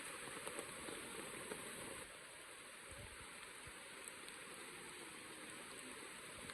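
Steady rain falls on a high jungle campsite by Sungai Pertak near Kuala Kubu Bharu, a constant broadband hiss that stays soft and even throughout, with a few faint knocks.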